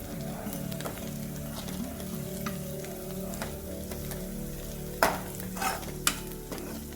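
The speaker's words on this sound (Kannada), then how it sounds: "ಈ ಥರ ಕೆಂಪಗೆ ಫ್ರೈ ಮಾಡ್ತಾ ಹೋದರೆ ಆಯಿತು" Masala frying red in a pan for a curry, a soft continuous sizzle with scraping stirs and a few sharp spoon taps against the pan, close and fairly quiet.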